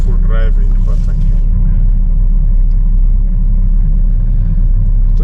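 A car driving through a squatter camp in South Africa gives a loud, constant low rumble of engine and road noise from inside the vehicle, with a voice speaking briefly at the start.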